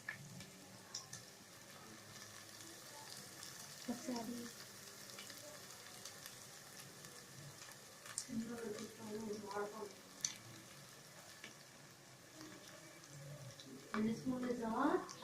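Chicken curry fries quietly in a pan as chili powder is stirred in, a low sizzle with occasional scraping and clinks, while a person talks intermittently over it.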